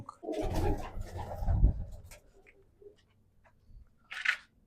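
Racing pigeons of a bred bloodline coo in short, soft bursts, loud and close at first and then trailing off into scattered quieter calls with a brief higher call near the end.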